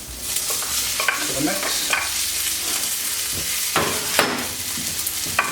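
Roast root vegetables tipped into a frying pan of hot oil, crackling and sizzling steadily while a spoon scrapes and stirs them, with a brief spoken phrase in the middle.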